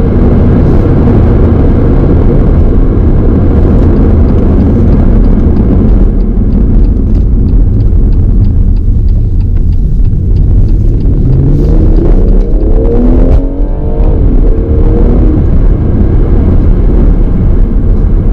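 An all-wheel drive car is driving, with loud, steady engine and road rumble filling the whole stretch. The engine tone shifts slightly midway.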